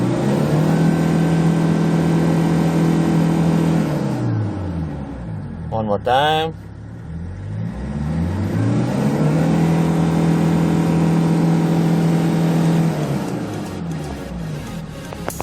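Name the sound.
Kia Bongo 3 diesel truck engine revving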